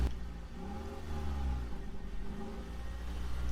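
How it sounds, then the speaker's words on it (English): A car engine from a downloaded sound clip, starting and then running with a steady mid-pitched hum and slight revving, close and fairly loud throughout, with no voices. "like car engine starting"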